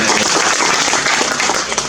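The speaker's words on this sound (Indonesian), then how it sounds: "Tepuk tangan dulu yang mulia." Audience applause at a Democrat party gathering in Aceh Barat, a dense, steady wash of clapping filling the whole moment with no pauses.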